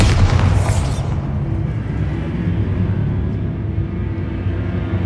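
A Bombarda spell blast in Hogwarts Legacy: a sharp, bright burst at the start that collapses into a deep, rolling boom and low rumble, fading slowly and staying heavy for several seconds.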